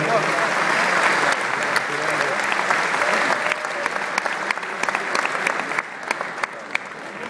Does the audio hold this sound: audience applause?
yes